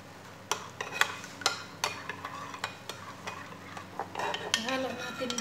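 Seasoned mashed potatoes with salt, black pepper and oregano stirred in a pot, giving a run of close scraping strokes and utensil knocks against metal at an uneven rhythm, with no talk.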